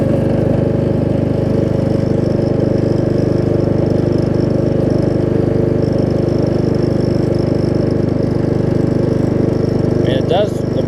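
A cheap Craftsman riding lawn mower, freshly carb- and brake-adjusted with its deck reattached, runs with a loud, steady droning engine close by, holding an even idle-to-mid throttle pitch, with someone talking over it.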